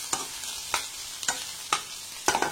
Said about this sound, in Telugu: ఇవి కొంచెం మంచిగా ఫ్రై చేసుకోవాలి.